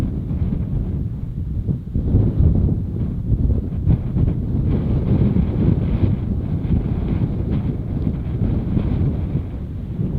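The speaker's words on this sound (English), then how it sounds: "Last night was just windy, and it's only supposed to get worse." Steady, strong desert wind at night roaring and buffeting against the microphone for the whole stretch, with no voices.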